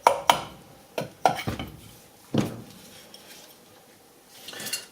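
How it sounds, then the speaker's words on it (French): A mallet tapping gently on a Garrett GT1549S turbocharger housing to separate it, giving a few sharp, metallic knocks in an irregular cluster, then quieter scrapes and a soft rustle near the end. "Vous pouvez utiliser un maillet, taper délicatement."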